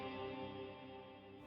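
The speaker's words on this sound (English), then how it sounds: "It sounds like a kind of hall reverb" A sustained guitar tone through a Neural DSP Archetype: Misha Mansoor hall reverb with pre-delay and shimmer, washed in a big, spacious hall, with notes blurring into a long shimmering tail.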